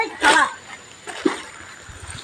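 Water splashes as two people wade into a shallow village pond to catch fish: one loud splash near the start, then a couple of smaller sloshes and knocks close by.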